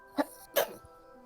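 Two quick sneeze-like bursts from a person at a tabletop game session, the first sharp and short, the second louder and slightly longer, followed by quiet room tone.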